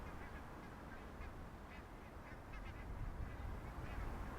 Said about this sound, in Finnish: Metsähanhien joukosta koitan etsiä harvinaisempia hanhilajeja,